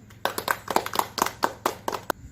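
A small group claps together in a short burst of about a dozen distinct, fairly sharp claps in an uneven rhythm, quiet and close in an indoor room.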